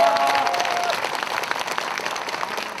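An audience at the opening ceremony of the 2023 Buddhist culture festival at Jogyesa claps after a youth choir and a b-boy crew perform. The applause is brief, dense and close, and a faint tone fades out at the start.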